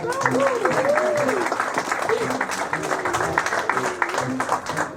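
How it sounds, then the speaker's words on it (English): An audience applauds the cast of a radio theater show, steady clapping running throughout while voices talk and call out over it. "Big round of applause"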